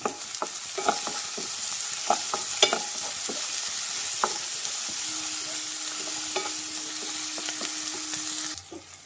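Small onions sauté in oil with a little salt, a soft continuous sizzle broken by irregular scraping and stirring taps of a spoon in the pan, close and unvoiced.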